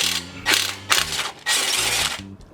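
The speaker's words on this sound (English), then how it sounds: "I'm tired, so I'm just going to use an impact." An impact wrench works a coilover bolt on an Acura RSX Type S, giving three short, close, rattling bursts with brief gaps between them.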